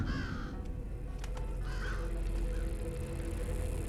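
Caged birds caw like crows in the stealth video game Thief, two or three hoarse calls ringing out over a low, rumbling ambient drone.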